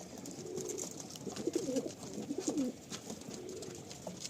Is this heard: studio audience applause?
no